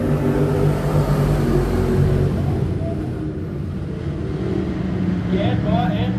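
Sportsman race cars on an oval track rumble and build throttle together at the start, a loud, dense engine drone that swells and holds, with a voice talking over it.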